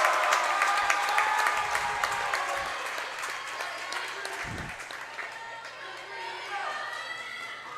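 Crowd at a girls volleyball game applauding steadily, dense clapping sustained throughout with a few thuds and voices mixed in, fading slightly toward the end.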